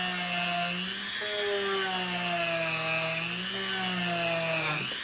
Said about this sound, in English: I like to drill them both.